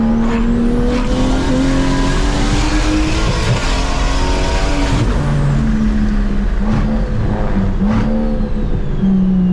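A loud turbocharged car engine roars at speed while overtaking, with sharp anti-lag pops and crackles from the exhaust breaking through at a few points.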